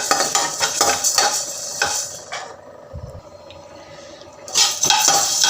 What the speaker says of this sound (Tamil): தீஞ்சு போயிடாமல் நல்லா கலர் சேஞ்ச் ஆகிற மாதிரி கைவிடாமல் கொஞ்சம் வறுத்து எடுத்துக்கோங்க.